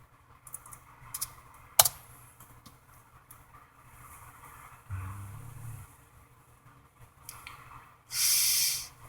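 Soft keyboard typing in short irregular bursts, quiet and close, with a sharp click and a brief hiss of noise near the end.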